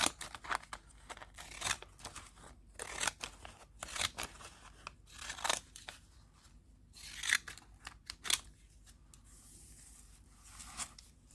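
Scissors snip through decorated gelli paper in a run of sharp, crisp cuts, irregularly spaced and close up, with faint rustling of paper between them.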